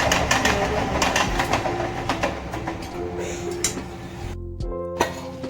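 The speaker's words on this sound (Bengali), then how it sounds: "আমার এখানে ট্রেন আছে সবাই জানেন ভয়েস দিতে দিতে সবসময় ট্রেনের আওয়াজ এসে যায়" A train rumbles past with rhythmic clattering of wheels on track, steady and fairly close, then fades and ends in a few clanks.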